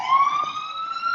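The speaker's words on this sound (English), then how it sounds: "So, ambulance is trying to get through, but it's stuck in traffic." An ambulance siren stuck in New York City traffic wails as a single loud, close, rising and sustained tone, heard alone.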